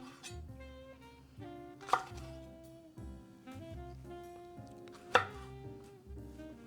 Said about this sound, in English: We're gonna start off chopping down our onion, jalapeno, bell pepper.